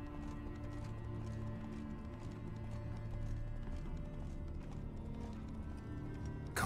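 Horse hooves clip-clopping steadily with an occasional whinny from Roach, the horse in The Witcher 3 video game, set against a continuous low game ambience and music bed.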